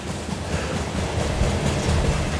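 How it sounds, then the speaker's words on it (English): Steady rumbling train rolling along a railroad track, a continuous low, dense rattle of wheels and cars with no clear individual clacks, close and fairly loud, with no talking. "The clickety-clack of the railroad track became part of his everyday work life"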